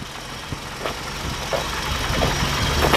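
A 1948 Plymouth Special Deluxe sedan with a single exhaust idles quietly, a low soft engine hum with faint rhythmic knocks and no voices.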